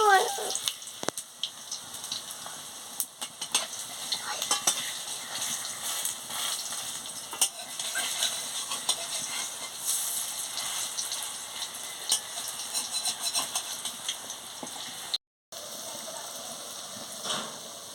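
Coriander leaf fritters frying in a pan of oil, a soft steady crackling sizzle with scattered pops and a few utensil taps as they are turned over.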